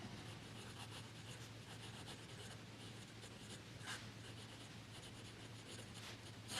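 Twsbi Eco fountain pen with a fine nib writing on paper, a faint, continuous scratchy rubbing with small strokes against a low steady background hum.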